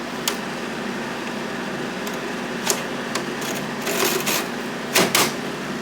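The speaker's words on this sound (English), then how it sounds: "When I take out that filter, the rattling stops, so it has something to do with this filter." A Rovsun 5000 BTU window air conditioner hums steadily while its loose filter produces faint intermittent rattles and clicks, with a louder clattering burst near the end, close by and with no talking.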